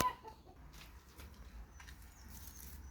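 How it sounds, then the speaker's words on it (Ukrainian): A hen clucks faintly in short soft bursts against a quiet background, with no talking. "що це за брехливий звук квокче"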